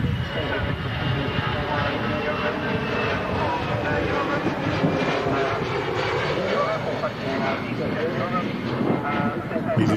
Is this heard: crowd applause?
no